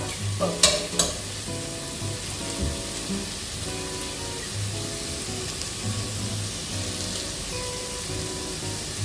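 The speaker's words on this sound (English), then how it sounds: "Let's mix the onion up." Onions frying for mutton ghilli biryani are stirred in a hot pan, with rhythmic scraping strokes of a utensil over a constant close sizzle and a few sharp clinks at the start.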